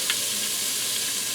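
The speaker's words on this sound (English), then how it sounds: "So I'm going to add in 1 cup of beef broth." Beef broth hitting the hot base of an Instant Pot while making pot roast, a brief burst of dense, even hissing sizzle that stays strong and close for its whole length.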